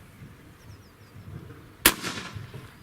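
A single sharp rifle shot cracks out loud and close, fired through a 5-30x56 first-focal-plane scope setup, with a brief decaying tail after the blast and quiet before it.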